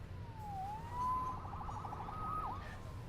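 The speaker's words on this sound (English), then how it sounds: "Saved by the siren." Police siren in the video game Marvel's Spider-Man, a wailing tone sweeping up and down, moderately distant and fairly quiet over a low ambient city rumble, with no talk.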